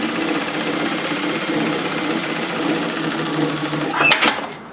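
Sewing machine stitching a parallel seam line on a longline hoodie, a steady rapid mechanical whirr running continuously before stopping with a brief clack near the end.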